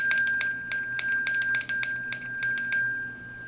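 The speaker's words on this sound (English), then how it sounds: "I love claiming with a bell here, so we're just gonna claim that." A small bell rung repeatedly in a quick, uneven series of bright metallic strikes with a sustained ringing tone beneath, close and fairly loud, heard alone without any talking.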